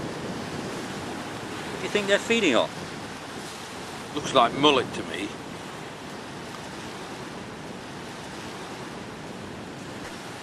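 Waves on a beach shore wash in as a steady broadband roar that runs the whole time, with two short bursts of talk over it.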